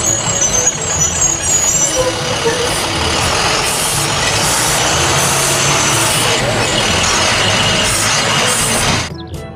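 A toy school bus plays loud engine and vehicle sound effects, a dense continuous mechanical rumble with hissing bursts, ending abruptly near the finish.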